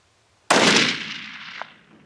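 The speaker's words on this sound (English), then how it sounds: "I think he shot high." One sharp, loud rifle shot cracks out at a mule deer during a Wyoming general-season hunt and rolls off in a long fading echo across open country.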